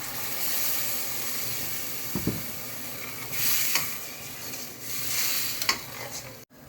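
Egg curry with French fries sizzles in a pan after water is added, a continuous crackling hiss that swells and fades with a few scraping stirs and a sharp clatter near the end.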